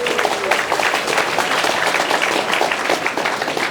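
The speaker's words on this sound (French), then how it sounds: "On peut applaudir Laura." Applause from a classroom of high school students, steady dense clapping throughout, fairly close and even in loudness.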